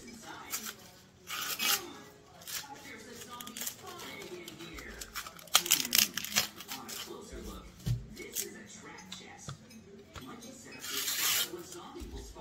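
Freshly washed plates and dishes handled and stacked to drain in a home kitchen, with scraping, rubbing and clinking knocks of crockery and utensils, some sharper clatters, under occasional speech.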